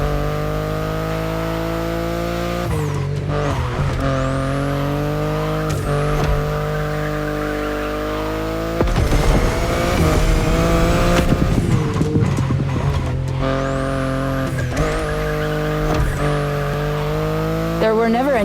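A BMW i8 hybrid sports car in The Crew Motorfest, its engine holding a steady harmonic drone that swells and shifts through gear changes and accelerations, loud and close throughout, with a voice talking over it.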